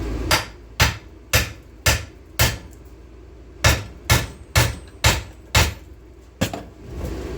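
Hammer blows on a rusted, worn-out U-joint on the driveline of a '98 Dodge Dakota, about eleven sharp metallic strikes in an uneven rhythm, loud and close, with a short gap midway.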